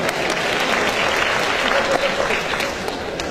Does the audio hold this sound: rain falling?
no